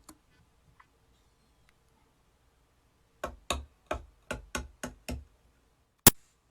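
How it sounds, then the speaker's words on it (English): Close, hollow knocks of a tree stump being struck, seven in a quick uneven series, followed by a single sharper hit after a brief pause. "this is the sound that I was making while hitting the tree stump."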